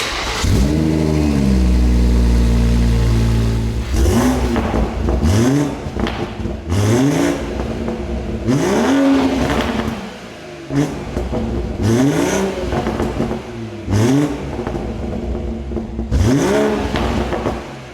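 A Stage 3 BMW M140i with a VRSF downpipe and stock exhaust, revved repeatedly while stationary, loud close rising and falling engine sweeps with short pauses between each blip after an opening steady drone.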